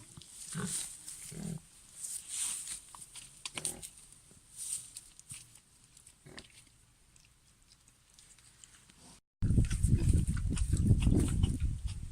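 Pigs grunting and snorting nearby in scattered bursts, followed by a sudden loud, rough rush of noise near the end.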